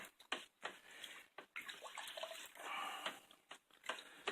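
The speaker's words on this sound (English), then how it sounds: "with my spoon of abnormal length, making up for a compensation or something, we'll stir that stuff down in there." Long spoon stirring honeydew melon wine must in a vessel, with faint, irregular liquid swishes and sloshing strokes, quiet and close with no speech.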